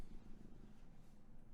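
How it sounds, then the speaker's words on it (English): Cat purring very close to the microphone, a faint but steady rumbling purr with a soft rhythmic pulse, heard alone. "I wonder if you can hear that purring, because it is very close to the mic."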